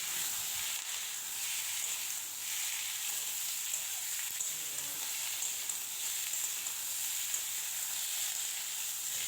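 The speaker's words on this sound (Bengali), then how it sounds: "কেটে রাখা আলু আর শশাটা দিয়ে ভাজা করে নেব" Cut potato and cucumber frying in hot oil in a pan, a steady bright sizzle that runs continuously at an even level, with faint scrapes of stirring now and then.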